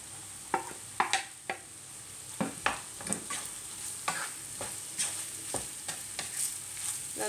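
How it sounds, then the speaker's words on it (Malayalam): Potatoes are tipped into spices frying in a pan, making a series of sharp scrapes and knocks of stirring over a continuous sizzle, close up with no voices. "ഇനി നമുക്ക് ഉരുളൻകിഴങ്ങ് ഇട്ട് കൊടുക്കാം."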